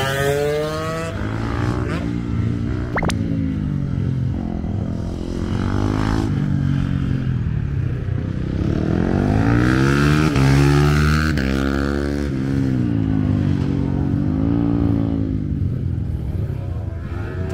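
A TM Racing kart laps the Fuji kart course on a slightly wet surface, its close engine revving hard and constantly rising and falling in pitch through acceleration and braking.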